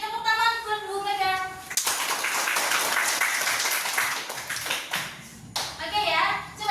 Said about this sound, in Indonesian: Tepuk tangan buat Bu Mega